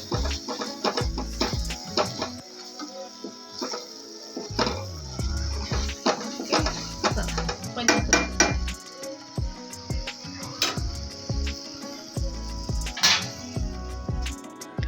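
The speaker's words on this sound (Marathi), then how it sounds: "दुसऱ्या साईडला आपण पनीर कट करून घेऊया" A knife slices through a 200 g block of paneer on a cutting board for restaurant-style Kolhapuri paneer, making a series of close, crisp taps and knocks in an irregular rhythm, with no talking.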